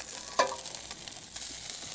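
Food sizzles in a pan with a steady, faint hiss, broken by one brief clink or stir near the start.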